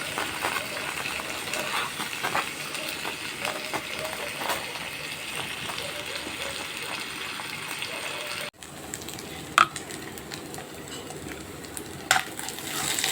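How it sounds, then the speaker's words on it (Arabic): Chunks of taro hit hot oil in a pan already frying duck, giving a steady close crackling sizzle with scattered pops, broken by a brief cut and occasional speech. "نطشها بقى بالقلقاس"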